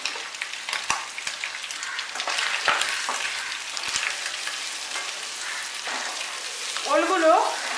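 Boiled elephant foot yam and prawns fry together in a pan, giving a continuous loud sizzle with stirring scrapes and clicks of a utensil throughout, a brief spoken word or two mixed in.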